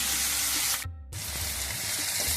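Onions sizzle in hot oil in a pan with black cumin for a Bengali fish curry, a dense close crackle with a brief break before the frying resumes.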